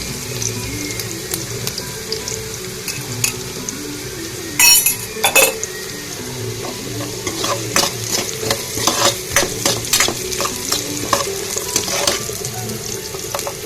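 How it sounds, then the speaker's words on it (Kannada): Rice roasts in a pan for Karnataka-style tempered rice, giving a steady close sizzle broken by repeated spoon scrapes and light metallic clinks against the pan, with a brief louder rattle partway through and no talking. "ಚೆನ್ನಾಗೆಲ್ಲ ರೋಸ್ಟ್ ಆಗಲಿ."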